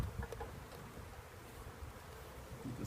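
Faint, steady buzzing of many honeybees swarming nearby as a package of bees is installed in a hive, a soft continuous hum with no talking.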